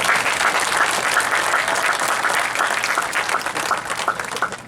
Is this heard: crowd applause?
yes